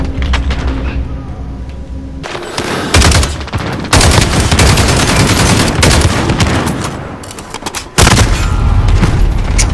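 Dense bursts of rapid gunfire and booms in Call of Duty: Modern Warfare, loud and close, with sharp onsets of new volleys every few seconds and no pause between them.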